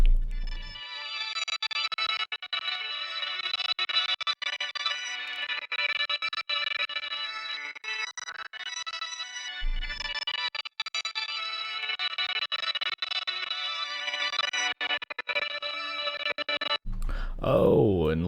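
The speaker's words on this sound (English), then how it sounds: "It's just a sine wave going pretty slow, modulating this width parameter." Synth pad in an Ableton project whose width parameter is swept by a slow sine-wave modulator, giving a sustained, effected, distorted tone with chorus-like movement and gentle swells; it runs continuously with brief dropouts and a pitch sweep at the end.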